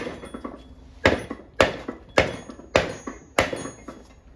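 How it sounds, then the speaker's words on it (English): Six heavy mallet whacks on a GTO T56 six-speed transmission, landing in a steady rhythm about half a second apart, each a sharp, loud, close impact with a short ringing decay and quiet gaps between. "I'm gonna give it a couple whacks with the mallet."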